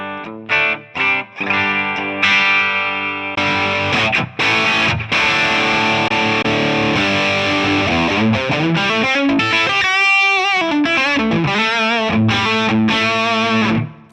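Electric guitar through a Tonex amp-modeling preset, played in a run of chords and single-note lines with distortion rising from clean-ish crunch to heavy drive, loud and continuous with brief pauses between phrases.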